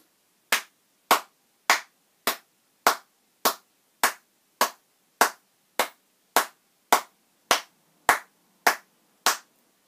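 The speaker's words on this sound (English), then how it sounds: "Let's begin with the clap." Hand claps keeping the rhythm of The Grand Old Duke of York: sixteen crisp, evenly spaced claps at a steady beat, close and clear against silence.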